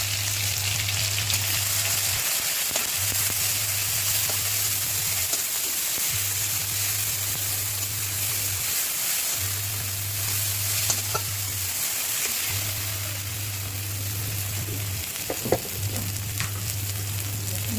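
Ground spice paste fries in hot oil with a steady, soft sizzle throughout, broken now and then by faint stirring clinks, under a low intermittent hum.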